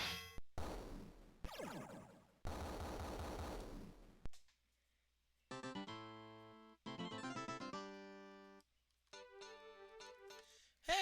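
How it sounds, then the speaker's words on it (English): A magic missiles spell fires in the retro video game Wizardry 6. It starts as a series of harsh, rapid noisy bursts, then gives way to clipped electronic tonal beeps and chimes, loud and close. "let's have you do a magic missiles on this group"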